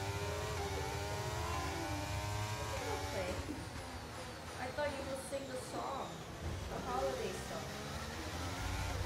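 Race car engine in a racing video game climbing through revs as it accelerates, steady harmonic whine running throughout, with a person talking over it.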